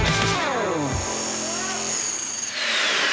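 Power saw blade grinding into a concrete bathroom wall during a home renovation, a loud continuous whine with shifting pitch that drops off near the end, close and steady with no talk over it.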